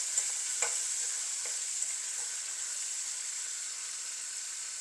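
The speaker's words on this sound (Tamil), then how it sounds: "இது இப்போ நல்லா ஃப்ரை ஆகட்டும். ஃபிஷ் இப்போ பாதி பொரிஞ்சிட்டுது." Fish fries in hot oil with a steady, bright hiss and a few faint pops and utensil taps, close and with no one talking.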